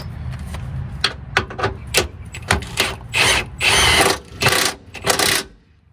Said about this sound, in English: I used a 14 and a hand ratchet